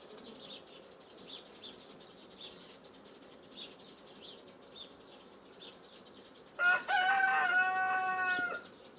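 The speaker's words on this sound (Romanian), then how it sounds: "A venit și cocoșul." A rooster crows once near the end, a loud drawn-out call over a steady background buzz of bees at a hive.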